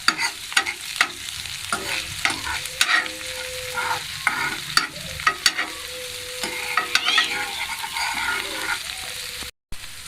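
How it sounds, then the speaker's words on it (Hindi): Chicken mixture being stirred with a spoon in a hot, sizzling pan after a splash of vinegar, with steady frying hiss under repeated scraping strokes, loud and close, briefly cutting out near the end. "और इसको अच्छे से हम मिक्स कर लेंगे।"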